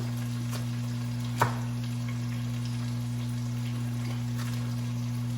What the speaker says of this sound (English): now we'll let this sizzle a bit